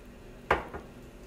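A salt lid is snapped back onto a pepper grinder in a quiet kitchen, one sharp plastic click followed by a softer second tap.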